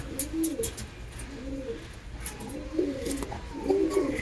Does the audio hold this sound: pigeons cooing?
yes